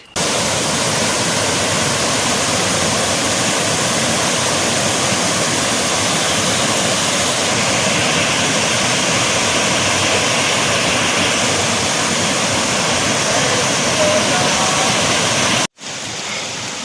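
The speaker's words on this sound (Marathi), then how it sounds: "अब मैं एक बहुत ही अच्छी नदी के किनारे पर हूँ" A river flows hard and steadily near Barki waterfall during the monsoon, a loud, dense rush of water that fills the whole clip close by and is cut off abruptly near the end.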